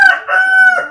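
A rooster crows loudly and close by, one sustained cock-a-doodle-doo with a rising start and long held middle, heard alone over about a second at a rural paddy-field setting.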